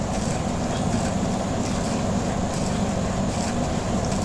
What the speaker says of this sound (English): Nowadays we are using grinder.